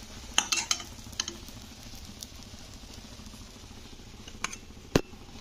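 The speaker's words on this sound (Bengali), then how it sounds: "তো আমি এইভাবে কিন্তু সব ডিমগুলোকে ভেজে নেব" Rohu fish roe fries in oil in a home kitchen pan with a quiet continuous sizzle, broken by a few sharp metallic clinks of a utensil against the pan.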